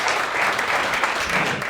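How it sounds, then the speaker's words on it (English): Steady applause from an audience at an academic symposium panel, dense continuous clapping at an even level throughout. "everybody should give us some applause to Bart for doing this."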